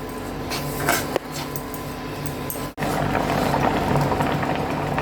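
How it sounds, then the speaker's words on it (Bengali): Raw mango pickle with sugar and jaggery simmers in a pan, giving a steady close bubbling hiss broken by a couple of brief clinks. "হ্যাঁ, আমার এটা ফুটছে দেখুন।"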